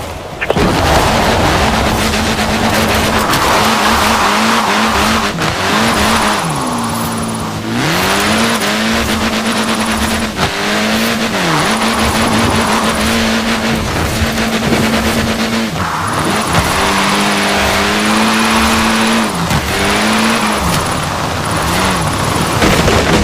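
A car power-slides through a long drift in Forza Horizon, engine revving and wavering as throttle rises and falls, with sustained tire squeal and skidding running loudly and continuously throughout.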